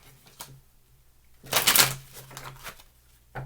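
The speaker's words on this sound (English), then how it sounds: "Let me move all my cards out of the way." Twin Flame tarot deck cards being swept aside on a table, a brief soft rustle and slide at first, then a louder burst of card shuffling and scraping, close up with no talk.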